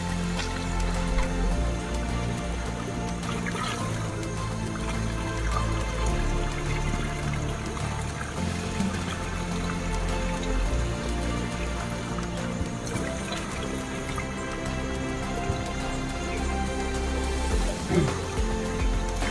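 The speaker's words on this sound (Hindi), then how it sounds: "यहाँ का पानी जो काफ़ी फ्रेश होता है स्ट्रीम वाटर है।" Fresh stream water at the Sigee and Yamne River flows in a steady, close wash of trickling and splashing, with occasional talk over it.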